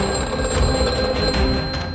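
A telephone bell rings on and on with no one answering, a loud, continuous metallic trill with a steady electronic tone beneath it and no talking.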